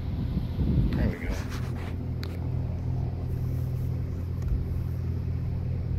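A parked vehicle idles outside a police department, its low steady engine rumble mixed with microphone wind buffeting and a brief voice near the start.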